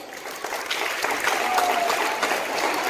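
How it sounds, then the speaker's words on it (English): Applause from a school audience at a science exhibition prize distribution, steady broadband clapping sustained throughout without pause, fairly loud and close. "Clap for Iqbal House."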